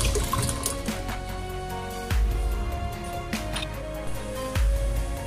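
One litre of water pours steadily from a bottle into a pot with a continuous splashing gurgle, broken by a couple of heavier low splashes.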